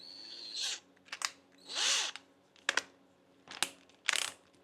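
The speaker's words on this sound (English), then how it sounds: "you're gonna need that drill" A power drill runs in repeated short bursts, several whirring pulls with pauses and small clicks between them, close by while headlights are installed on a Dodge Challenger behind the intake tube DRL area.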